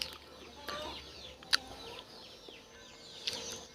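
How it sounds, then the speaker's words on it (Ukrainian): A hen grazing on grass in a farmyard gives soft, intermittent clucks. Faint and slightly distant, with a couple of sharper chirps standing out against quiet outdoor background. "А он доходить пасеться курка."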